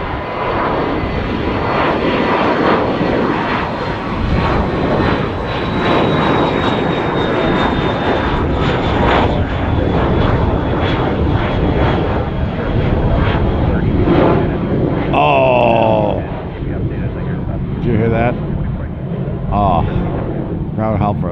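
An airliner lands at Tampa airport in a gusty crosswind, its engines roaring loud and close for most of the stretch before easing, with wind buffeting and some talk over it.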